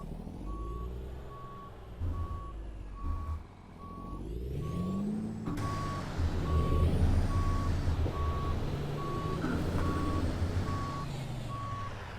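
In American Truck Simulator, a truck backs up with an evenly spaced reversing beep repeating over a low, steady diesel engine drone that swells and rumbles louder midway.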